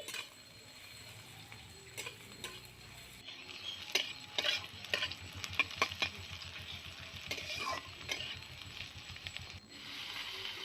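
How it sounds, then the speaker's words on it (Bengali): Chopped onions, green chillies and cumin seeds frying in oil, a soft steady sizzle broken by repeated scraping stirs of a spatula against the pan, building busier through the middle before settling back to an even hiss. "তেলটা দিয়ে এবার দিয়ে দিলাম কুচনো পেঁয়াজ আর কাঁচা লঙ্কা জিরা দিয়ে পেঁয়াজ লঙ্কাগুলোকে একটু ভাজা ভাজা করে নিচ্ছি"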